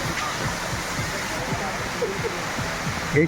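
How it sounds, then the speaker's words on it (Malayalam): A waterfall at Pazhathottam near Vattavada gives a constant rushing hiss in the background while people talk over it close by. "നമ്മൾ നേരെ ഫ്രണ്ടിൽ കാണുന്ന ഒരു അടിപൊളി ഒരു വെള്ളച്ചാട്ടമാണ്"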